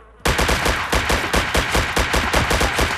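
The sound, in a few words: gunfire from video game DayZ Overpoch mod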